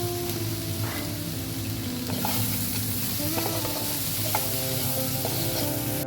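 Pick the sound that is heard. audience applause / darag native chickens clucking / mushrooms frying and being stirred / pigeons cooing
mushrooms frying and being stirred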